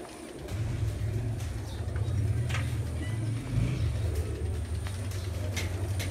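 Racing pigeons coo in a low, continuous rumbling drone, close and steady throughout, at a pigeon-flying competition loft in Punjab with faint background noise and no talking.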